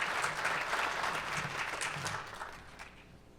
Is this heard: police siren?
no